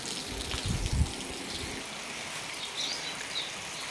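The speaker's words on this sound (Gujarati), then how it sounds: "હવે ધીમો ધીમો ચાલુ છે વરસાદ હો" Light rain patters softly with a faint, even hiss, and a slightly heavier splash of water can be heard near the start.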